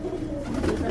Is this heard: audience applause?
no